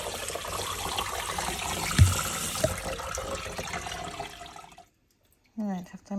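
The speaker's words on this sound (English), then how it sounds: "just shaking it, getting out all the excess water" Rinsed rice being shaken in a strainer to drain off excess water, a continuous wet rushing and dripping noise up close, then a pause before a voice begins speaking.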